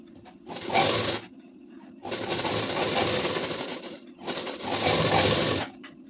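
An electric sewing machine stitching a ladies' suit, whirring in three bursts of a second or two each with quieter pauses between, close and loud.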